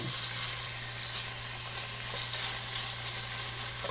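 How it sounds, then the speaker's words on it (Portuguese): Tuscan sausage frying in olive oil, a steady dense sizzle with a low constant hum beneath, even and close throughout with no voices. "E aqui agora eu vou dar uma fritada, deixar fritar bem essa linguiça"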